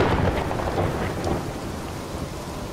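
Rolling thunder from a lightning storm with steady rain around a tall clock tower, a loud broad rumble that runs continuously and eases slightly toward the end.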